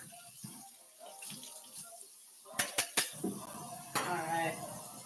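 Dishes and cutlery clink and knock in a kitchen sink with running tap water, a few sharp close clatters standing out amid washing noise, with a voice talking faintly.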